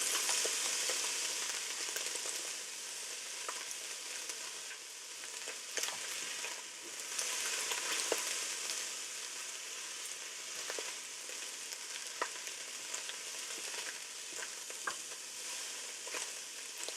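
Chicken fried rice stir-frying in a Ninja Foodi makes a soft, continuous sizzle with occasional light clicks of stirring, fairly quiet and steady with no talking.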